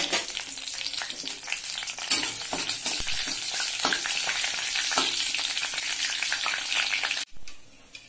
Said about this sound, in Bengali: প্রথমে আমরা কড়াইতে তেল দিয়ে দিলাম। এবারে ফোড়নে দেব তেজপাতা, শুকনো লঙ্কা